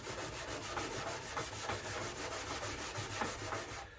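Car bodywork is sanded by hand with a steady, rhythmic scratchy rubbing, close up and continuous, with repeated strokes and no talking.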